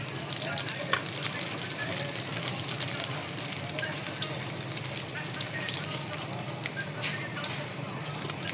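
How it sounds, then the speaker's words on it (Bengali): An egg fries in a hot pan with a constant bright sizzle and crackle, loud and close, with brief stirring clinks and people talking quietly nearby. "এদিকে ডিম ভাজা হচ্ছে"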